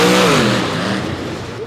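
Monster truck named Nightmare at a monster truck show, its engine revving loudly up and then easing back, a single roaring throttle swell that fades over under two seconds.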